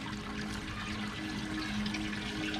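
Water from aquaponics grow beds drains steadily into a fish tank, a continuous close splashing and trickling that runs evenly for the whole few seconds with no voices.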